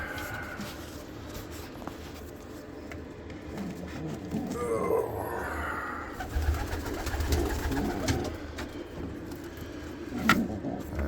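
Racing pigeons from a young bird team coo softly and steadily inside a loft, with low rumbling background noise and a passing car.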